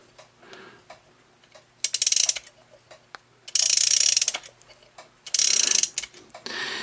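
A dual parking meter's mechanism is wound with a socket on a hex head screw, giving three bursts of rapid ratcheting clicks separated by pauses, close and crisp with no talk.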